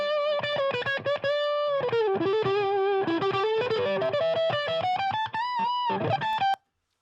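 Electric guitar run through a copper distortion pedal, playing a sustained, singing lead line with bent and held notes and quick picked phrases, loud and continuous before cutting off abruptly near the end.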